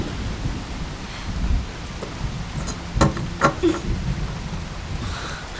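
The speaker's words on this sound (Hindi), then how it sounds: "ये क्या इतनी बारिश में?" Heavy rain pours steadily with a hiss, broken by a few sharp knocks partway through.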